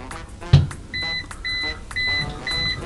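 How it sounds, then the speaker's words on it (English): The non-contact voltage detector on a Hanmatek DM20 multimeter beeps. After a single knock, four short, clear electronic beeps follow at a steady, quickening pace, with a faint hum underneath. "you can tell the beeper gets a little louder, a little faster as it increases in threshold"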